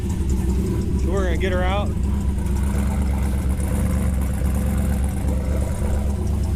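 An LS-swapped turbo Ford Ranger idles steadily right after starting, a loud, even low rumble running throughout with a person talking briefly over it.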